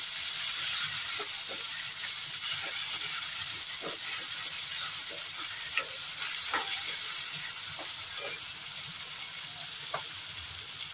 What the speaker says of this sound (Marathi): छोटा चमचा हळद, व्यवस्थित परतून घेऊया